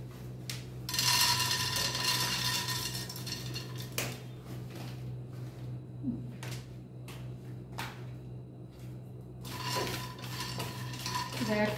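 Dry peanuts tossed and stirred in a pan, giving scraping, rattling clatter with metallic clinks and bursts of rustling, steady through most of the stretch under a low background hum.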